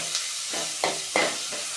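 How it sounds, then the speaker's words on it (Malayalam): Drumstick leaves are sautéed in a pan for upma: a continuous hiss of frying under three or four distinct stirring strokes, close and moderately loud. "നന്നായിട്ടൊന്ന് വഴറ്റാം."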